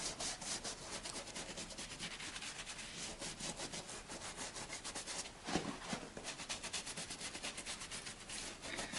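Polish being spread over a boot with a cloth, a close, continuous rhythmic rubbing made of rapid, even strokes that carries on without pause.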